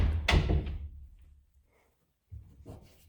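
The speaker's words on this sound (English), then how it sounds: "All right, so shut this door." A door in an empty house thuds shut nearby with a solid wooden knock, followed by a short quiet pause and a second softer bump.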